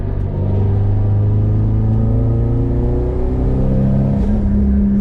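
A turbocharged 500 HP Subaru STI engine pulls hard under boost, a loud, close, rising engine drone with steadily climbing pitch and no misfire stumble, heard without any speech.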